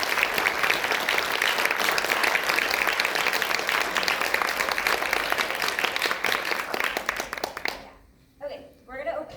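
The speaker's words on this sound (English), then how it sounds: "give yourselves a round of applause for all of you" A lecture audience on Palestine breaks into loud, dense applause that holds steady for about eight seconds before cutting off, followed by a speaker talking.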